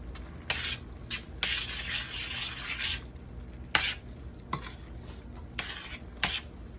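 Butter melting in a pot for a one-pot creamy pork Mississippi pot roast bucatini, giving a soft steady sizzle broken by several sharp clinks and scrapes of a utensil against the pot, close and alone with no talk.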